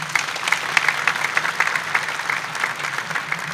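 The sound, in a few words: audience applause for the organising committee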